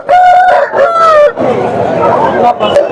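Roosters crowing loudly and close at a weekly Friday poultry market in Bangarapet, with two strained crows in quick succession followed by a clucking, noisy bustle.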